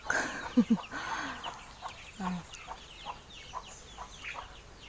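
Chickens cluck in short bursts over a busy outdoor background, with one louder pair of clucks early and softer ones scattered after.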